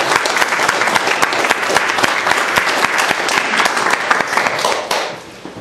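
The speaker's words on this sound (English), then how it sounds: "Let's give a round of applause." A town hall audience applauds a speaker with dense, loud clapping that holds steady and then fades out near the end.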